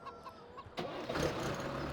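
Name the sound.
chickens clucking in Farming Simulator 2017 video game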